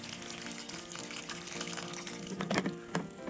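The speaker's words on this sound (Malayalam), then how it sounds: "നമുക്ക് ആവശ്യത്തിനുള്ള വെള്ളം ഒഴിക്കാം" Water pours into a pot of healthy chicken soup, a faint trickling, splashing stream that swells with a few louder gurgling splashes near the end.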